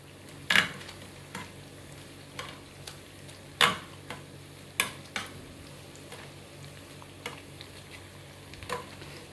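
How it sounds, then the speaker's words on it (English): French fries frying in hot oil give a soft, steady sizzle, broken by scattered sharp pops and clicks every second or so, heard close and fairly quiet with no talk. "French fries, we fry it ready."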